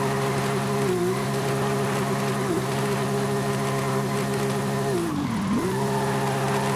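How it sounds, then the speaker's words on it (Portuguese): Volkswagen Kombi drifting on mountain roads in Forza Horizon 5, a steady buzzing engine drone that holds loud throughout, its pitch dipping and rising briefly as the van slides. "Vamos agora testar ela no Drift."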